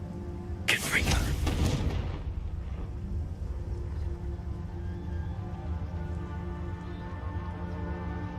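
A Confringo fire spell explodes in the Hogwarts Legacy video game, one sharp crackling blast that roars for about a second before fading into a steady low ambient rumble.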